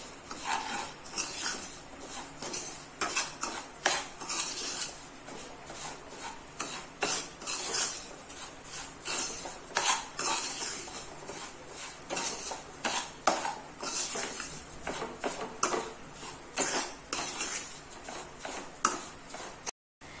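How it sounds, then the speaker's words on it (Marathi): Semolina roasts in ghee in a pan, stirred continuously so a spoon scrapes and clicks rhythmically against the metal over a light sizzle, close and steady for the whole stretch. "रवा छान गुलाबी रंग येईपर्यंत भाजून घ्यायचा।"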